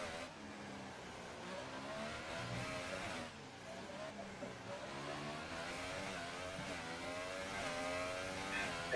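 An F1 car on a flying qualifying lap at Monaco in the F1 2018 racing game, the engine screaming and rising and falling steadily through gears for the whole stretch, with a voice speaking over it.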